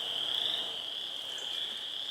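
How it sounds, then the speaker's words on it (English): Spring chorus of chorus frogs, spring peepers and tree frogs calling together, a continuous shrill high-pitched trilling drone from many distant animals, steady and moderately faint with no voices. "we're hearing a lot of the chorus frogs and the spring peepers, and also the tree frogs started to call today"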